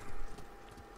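Horse hooves clip-clopping in the Ghost of Tsushima video game, a few soft close steps on the ground over a faint background hum, with no voices.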